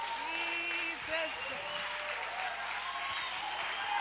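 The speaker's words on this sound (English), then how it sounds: "We may clap hands for Jesus." A church congregation claps together during a worship service, a steady, moderately distant patter of many hands, with a voice speaking over it.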